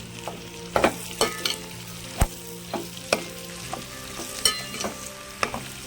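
A spatula stirs cabbage and potato curry in a pan, scraping and clanking against the metal in irregular strokes over a low sizzle of frying.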